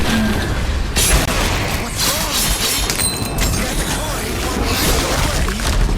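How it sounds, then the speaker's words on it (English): Pirate-themed Davy Jones video game combat: dense, continuous booms, crashes and impact hits pile up loudly, with a few bright metallic clangs around the middle, and someone talks over the barrage. "there's a lot of hit effects happening right now"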